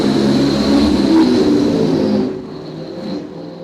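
Top Fuel dragsters launch at a drag strip with a loud, rasping roar that holds for about two seconds, then drops away sharply as they pull off down the track.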